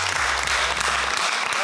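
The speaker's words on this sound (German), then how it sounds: "ein fetter Applaus erstmal für die Trainer und Trainerinnen" Short burst of dense clapping from a group at a volleyball camp in Munich, honoring the coaches, loud and close.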